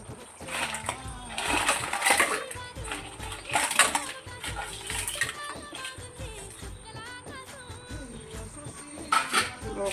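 Black crabs tipped into a pan of softened brinjal curry, giving a few wet splashing, sizzling bursts with soft clatter, close and moderately loud, over faint background activity.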